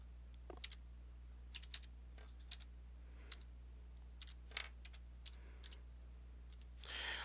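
Keystrokes on a computer keyboard while an IP address is entered to program a StarLink communicator for Bosch receivers: faint, sparse clicks at uneven intervals over a steady low electrical hum, with no talking.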